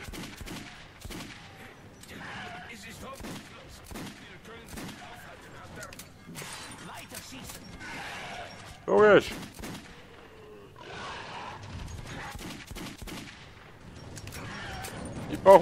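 Gunfire in the video game Metro 2033, scattered bursts and a couple of sharper shots over steady game noise, with people talking throughout.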